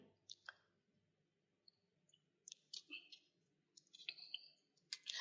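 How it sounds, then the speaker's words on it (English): Tarot cards being shuffled by hand in short bursts of crisp riffling and flicking clicks with pauses between, close and fairly quiet over faint low background hum. "Just shuffling the cards here."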